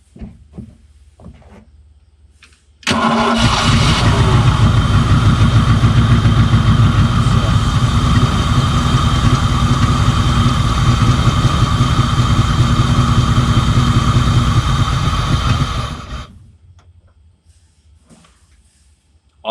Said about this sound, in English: How exciting is that to hear this motor run after all those years?